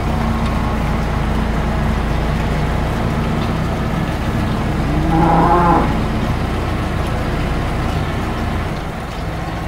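A single cow moos once, faint and distant, about halfway through a long stretch of steady loud farm background rumble on a livestock farm.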